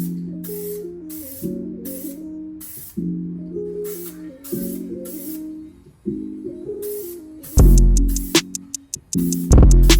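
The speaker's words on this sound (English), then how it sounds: "So now we're gonna use our PDN paint. We're gonna spray it up" Several short hissing bursts of a can of color-matched automotive spray paint on a vehicle part, repeated in quick succession, with background music underneath.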